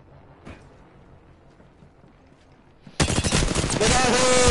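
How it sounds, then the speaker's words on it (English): Sudden rapid automatic gunfire erupts partway through an Apex Legends match, loud and sustained after a quiet stretch with a faint voice. "Oh, I'm getting shot at."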